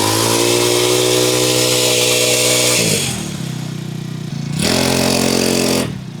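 Small engine on a cheap Amazon motorcycle running off choke, a loud buzzing idle close by with a strong steady hum, dipping twice to a lower, softer tone before revving back up.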